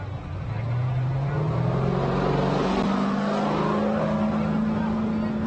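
Class 1 race truck from Mason Motorsports revving at the Baja 400 starting line, a loud sustained engine drone with rising pitch and steady roar throughout.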